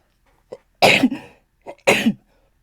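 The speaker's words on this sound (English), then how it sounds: "But first, I got to sneeze." Two sharp, explosive sneezes close to the mic, each preceded by a short breathy intake, separated by about a second.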